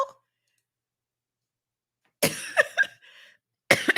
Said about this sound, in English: I meant to mute myself just now with that cough.